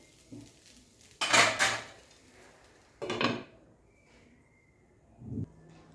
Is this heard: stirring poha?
yes